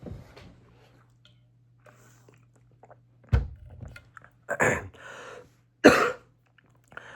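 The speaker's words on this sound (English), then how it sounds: "I'm coughing a lot" A person coughs and clears their throat early in the morning, with a few separate rough, throaty bursts spread across the clip after a quiet stretch, close to the microphone and with no talk.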